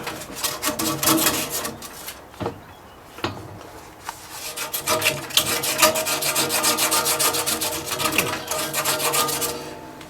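A small handheld belt sander of the power-file type abrades a workpiece, with rough, rasping passes that start and stop in short bursts, then run more steadily and loudly up close.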